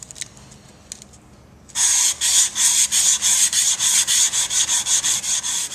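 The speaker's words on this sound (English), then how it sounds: "I'm going to take some fine sandpaper and sand off all this baked on oily residue" A steel knife blade gets rubbed by hand with fine sandpaper to strip baked-on oily residue. After a quiet opening, a loud, close, rhythmic back-and-forth scratching sets in and repeats steadily to the end.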